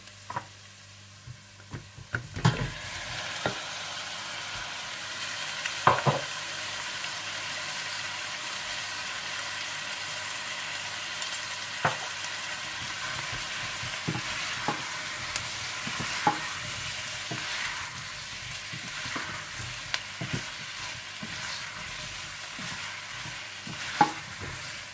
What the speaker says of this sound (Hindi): थोड़ा सा सौते करने के बाद आप इसमें टमाटर और टमाटो पेस्ट डालकर अच्छी तरह से मिला लें।